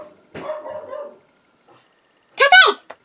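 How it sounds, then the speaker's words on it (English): A dog barks indoors, giving a short run of barks, then a sharper yelp-like burst after a pause, close to the microphone with a person speaking around it. "I don't need you barking in the background"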